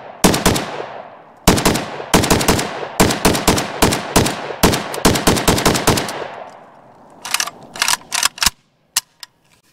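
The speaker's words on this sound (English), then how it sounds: "First shots, it's Monarch ammo out of the" A WBP 5.45mm AK74-style Jack rifle fires Monarch ammunition: loud, close gunshots in rapid strings and bursts, then a few sparse final shots before the firing stops. No one speaks.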